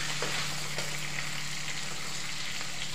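Potatoes going into a pan of frying chillies, a steady close sizzle with faint stirring scrapes and no voices.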